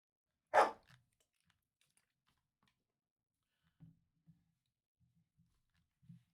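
A puppy lets out a single short bark close by, followed by a few faint soft yips and small clicks in an otherwise quiet room.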